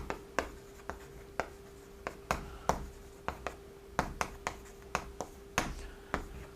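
A lecturer writing on a board during a law lecture: sharp, irregular taps and short strokes of the writing tool, fairly close but faint, with no talk over them.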